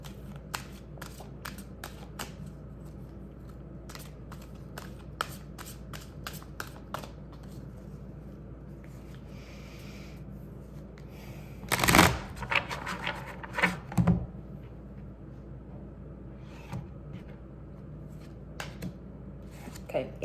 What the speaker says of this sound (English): Let's pull a card from this one and see what comes up.